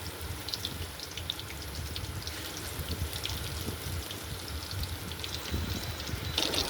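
Chicken pieces frying slowly in oil over low heat for crispy chicken, giving a steady, soft sizzle with faint crackles and pops throughout.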